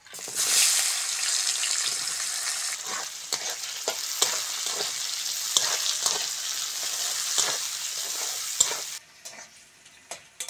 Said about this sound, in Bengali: ফোড়নের সঙ্গে পেঁয়াজটা ভালো করে ভেজে নেব